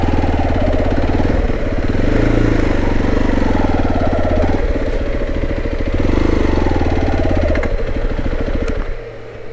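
A motorcycle idles close by in a steady, throbbing rumble that holds even for several seconds, swelling slightly at moments before dropping away at the end.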